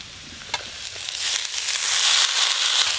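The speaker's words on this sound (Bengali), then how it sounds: "এই মূলো শাক আর আলাদা করে জল গেলে ফেলতে হয় না, এক ফোড়নে ভেজে নিলেই হয়ে যায়" Radish greens frying in a pan with lightly fried onions, a rising steady sizzle that grows louder and hissier, with a few small pops and stirring scrapes near the start.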